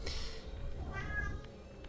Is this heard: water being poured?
no